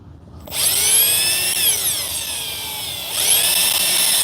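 A power drill drives 3.5-inch deck screws into a wooden fence post, its motor whining loudly up close in two sustained runs, with the pitch dipping as the screw bites, then rising again.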